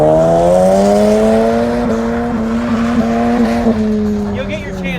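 Cars drift in tandem at a car meet, a strained engine note holding steady and slowly rising, with tires squealing as they slide along; the sound stays loud and continuous throughout.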